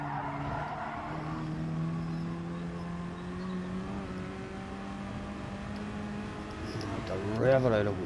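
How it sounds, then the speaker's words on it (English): A race car engine in Gran Turismo Sport holds a steady, droning pitch as it revs out along a straight, rising briefly near the end, while a voice talks over it throughout. "Rev it out a wee bit here just to get in the max of slipstream if I can."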